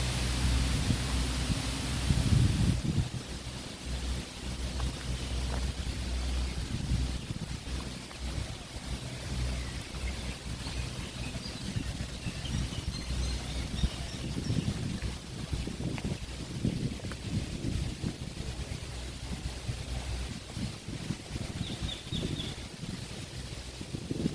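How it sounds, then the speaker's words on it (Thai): Strong wind blows steadily across the open grounds of a Thai temple. It makes a constant broad rushing roar with low gusty rumbling against the microphone, and no voices can be heard. "ลมพัดแรงหน่อยวันนี้"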